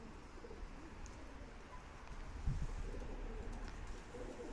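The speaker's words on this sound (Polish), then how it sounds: "Kolejne na niebie pokazują się siwe albo jakieś inne ptaki, przelatują." Pigeons coo softly outdoors against a steady low background rumble, with a brief louder flutter midway as birds pass overhead during a 10 km homing flight release near a parking area.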